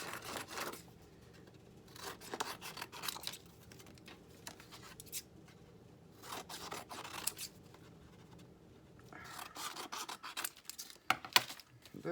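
A larger pair of scissors snips through material in repeated bursts of cutting, with quiet pauses between strokes, close and fairly soft, with no voices.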